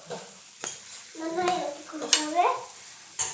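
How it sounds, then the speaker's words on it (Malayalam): A spatula stirs ground spice paste into jackfruit seed thoran in a pan, with close scraping strokes and soft sizzling under light background voices, plus a few sharp clinks against the pan. "അരപ്പിട്ട് നല്ലതായിട്ട് ഇളക്കി യോജിപ്പിക്കാം"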